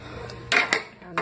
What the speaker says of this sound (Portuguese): Tem umas panelas aqui meio preta aqui.